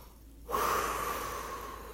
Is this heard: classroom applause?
no